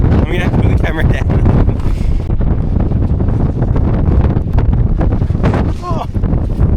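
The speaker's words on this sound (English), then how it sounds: "Oh, it's super windy up here." Strong wind buffets the microphone on an open hilltop in England's Lake District, a loud, continuous roar with gusty surges and a voice briefly breaking through.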